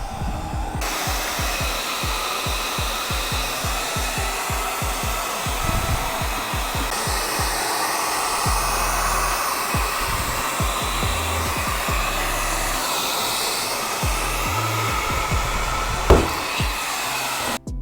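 A heat gun blows steadily while a vinyl graphics wrap is warmed on a LO206 CompKart go-kart, its loud continuous airflow whoosh running unbroken for the whole stretch with a faint knock near the end.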